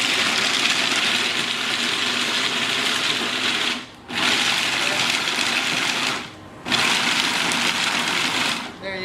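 A kitchen blender whirs steadily while mixing ingredients for no-added-sugar protein nut bars, a loud continuous motor roar that cuts out briefly twice, with speech partly audible over it.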